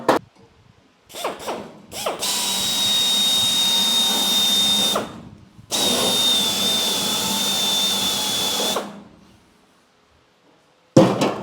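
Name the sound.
drilling out spot weld with drill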